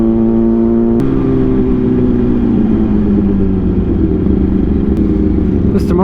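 A loud engine drones in heavy city traffic while a motorcycle lane-splits through it, its pitch sliding slowly downward as it passes, with voices talking over the steady roar.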